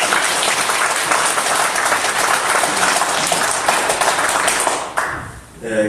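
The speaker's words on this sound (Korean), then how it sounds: "박수 하겠습니다" A congregation at a Friday church service applauds in a loud, dense round of clapping that cuts off abruptly near the end, after which a voice begins.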